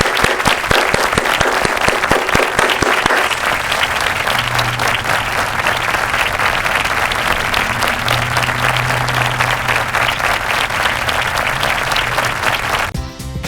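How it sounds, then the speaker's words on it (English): Dense audience applause fills the whole stretch, many hands clapping loudly and continuously before cutting off sharply at the end. "And applause to Ricky Calderon."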